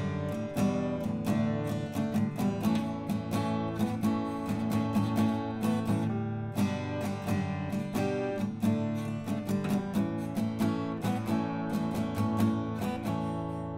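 An acoustic guitar strums the chord progression of a song at a brisk tempo, bright close strokes ringing steadily with rhythmic accents and no talking over it.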